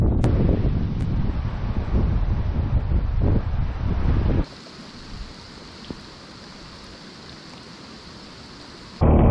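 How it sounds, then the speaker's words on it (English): Strong wind gusts and heavy rain in the mountains during a snow storm, a loud, dense roar of wind buffeting the microphone over driving rain, continuous throughout with a sudden shift in tone partway through. "We've had 60-mile-an-hour gusts. Heaviest rain I've seen in a long time here."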